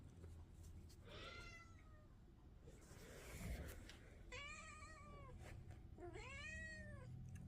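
An indoor house cat meows a few times, drawn-out plaintive cries that rise and fall, fairly close over a quiet room background, with no talking.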